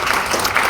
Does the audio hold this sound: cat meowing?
no